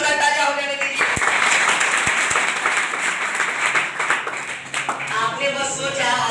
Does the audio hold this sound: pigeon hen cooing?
no